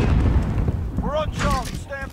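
Grenade blasts in Call of Duty, heavy low rumbling booms in the opening second with a brief burst, then a voice speaking over the fading din of battle.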